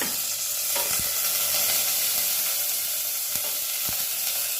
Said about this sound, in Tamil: கடுந்தம்பருப்பு, கருவேப்பிலை, ஜீரகம், பட்டை மிளகா எல்லாம் போட்டு